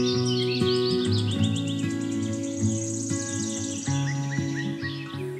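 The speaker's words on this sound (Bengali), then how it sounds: "পাখির কিচিরমিচির, ঝর্ণার ছলছল শব্দ," Birds chirping near the Jhor Jhori waterfall, with several close, bright tweets and trills over a steady tonal hum and a soft background wash.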